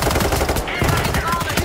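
Gunfire in the heist shooter Payday 3, a dense, continuous burst of rapid shots throughout, loud and close, with no pause in the firing.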